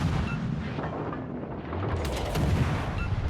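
Warship guns fire in a naval video game battle aboard the Öland, with heavy booming salvos and rumbling blasts that fill the whole stretch at loud, sustained volume.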